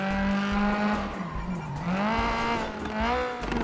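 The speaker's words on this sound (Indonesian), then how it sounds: "Sabar-sabar, mobilnya lumayan kencang guys." In GTA 5 roleplay, a fast car races with its engine revving and tires squealing through turns, loud and continuous, with no speech over it.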